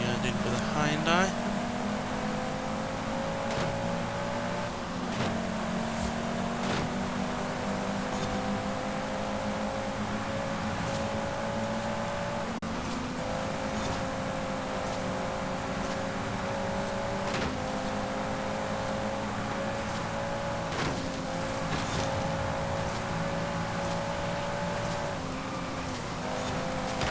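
A Ford hot hatchback's engine in a Forza Horizon 5 race climbs steadily through the revs, drops briefly at each gear shift, then rises again, with a continuous droning tone throughout.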